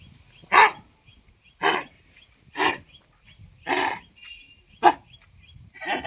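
A dog barks loudly and close by, about six separate barks spaced roughly a second apart, with quiet pauses between them.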